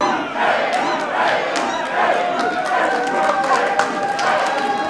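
A packed crowd at a wrestling show inside a brewery roars and shouts continuously, a dense, loud wall of voices with scattered yells and cheers rising throughout.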